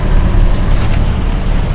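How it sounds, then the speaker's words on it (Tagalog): Loud wind and rushing water buffet the microphone as waves slap against a moving boat near a fishport, a continuous roaring wash with no speech. "Malagapak ang alon."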